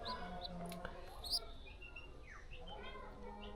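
A one-week-old pigeon chick gives thin, high chirps at close range, a few brief peeps scattered through a steady background hiss.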